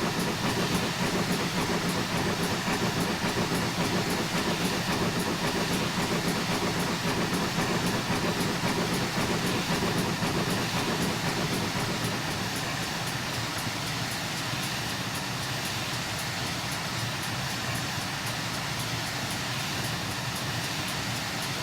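Steady rumbling of a GWR Hall steam locomotive in a train simulator game on the West Somerset Railway, continuous rolling clatter and engine drone, unchanging and fairly loud throughout.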